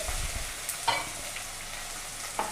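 Onions browned light with garlic and ginger sizzle in hot oil, a constant close frying hiss broken by a couple of stirring scrapes and clinks, no talking.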